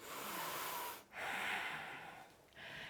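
Audible breaths during a slow squat exercise, close and soft, with a long airy exhale followed by a brief pause and another breath starting.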